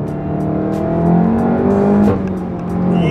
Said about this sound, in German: So, also unterwegs im Cupra R.